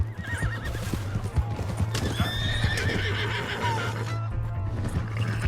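Rapid clip-clopping hooves gallop steadily while a horse neighs and whinnies loudly over the rhythm, with a low constant hum underneath, in the video game Red Dead Redemption 2.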